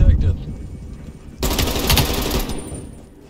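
AK-74U gunfire in the video game Black Ops Cold War, a rapid close automatic burst cutting in halfway through and trailing off, following a low rumble and muffled talk.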